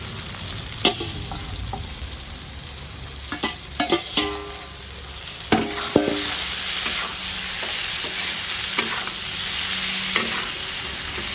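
Fried cauliflower and paneer sizzle in a hot pan while a utensil scrapes and stirs them in irregular knocks and scrapes, close up and without speech.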